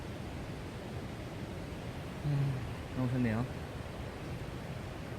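Mountain stream water flows through a valley near a campsite deck as a soft, steady rushing hiss, with a person speaking briefly over it.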